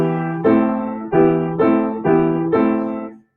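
A chord progression in a natural minor key: five sustained, full-voiced chords change at an even, unhurried pace, each one struck cleanly and ringing before fading at the end, with no voices.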